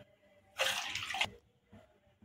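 Water splashes into a cooking pot for idiyappam dough, a short bright gush lasting about half a second, then quiet with faint drips.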